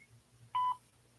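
A single clear voicemail beep on a landline answering machine, one short steady tone lasting about a quarter second, alone in near silence.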